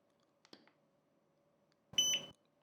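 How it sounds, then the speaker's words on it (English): A Godox V1 speedlight flash sounds its ready beep after recharging: a short bright electronic tone near the end, preceded by faint clicks, over a quiet background. "you're gonna hear a beep that will inform you that the flash is ready to shoot again"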